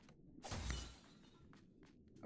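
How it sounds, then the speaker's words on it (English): Glass bottles shatter in the underwater action game Another Crab's Treasure, a single bright, close breaking crash followed by a few fainter tinkling pieces. "I'm breaking all the glass bottles too"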